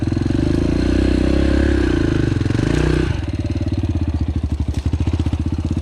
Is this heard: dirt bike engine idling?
yes